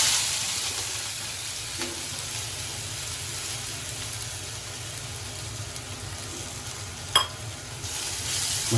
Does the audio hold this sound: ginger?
yes